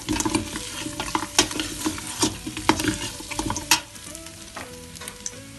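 Meat sizzles with tomato paste in a pot, crackling and spitting steadily while a spoon scrapes and stirs in irregular bursts, the frying loud and close before easing off toward the end.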